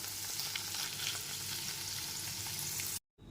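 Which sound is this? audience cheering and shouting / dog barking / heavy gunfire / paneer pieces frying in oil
paneer pieces frying in oil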